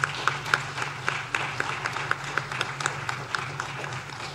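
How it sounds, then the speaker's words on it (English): Modest clapping from a seated audience at a lecture session, honoring an Indian dancer and Indologist, with scattered, uneven claps over a low room hum rather than a dense ovation. "Let us give her a standing applause."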